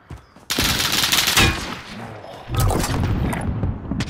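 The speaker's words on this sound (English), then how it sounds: "Getting shot from two sides." Video-game gunfire from two directions: a sudden burst of rapid automatic shots that rattles on, briefly eases, then surges again, loud and close with no talk over it.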